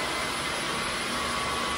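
New vacuum cleaner running with a steady loud whooshing roar and a whine, continuous and close throughout with no talk.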